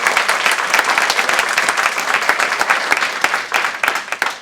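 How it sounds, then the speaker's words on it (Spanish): A church congregation applauds together in dense, continuous clapping that holds steady for several seconds, fairly close and loud, with no clear talking over it. "Vamos a aplaudir al Señor Jesús."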